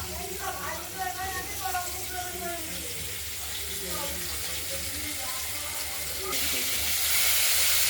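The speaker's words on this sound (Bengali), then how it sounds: "দেখতে থাকুন, মাছগুলো ভাজা হচ্ছে" Pieces of katla fish fry in hot oil with a steady, close hiss and sizzle running throughout, partly under a voice, and the hiss grows louder in the last second.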